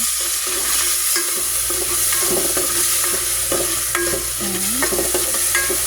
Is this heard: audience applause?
no